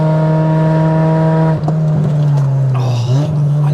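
A Mk5 Ford Fiesta's 1.7L Puma four-cylinder holds a loud, steady engine drone from inside the car, then dips briefly twice as revs shift, close and continuous.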